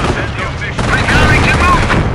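Gunfire in the Company of Heroes video game during an Operation Market Garden mission: a dense, loud barrage of overlapping shots and rumbling blasts, sustained for the whole moment.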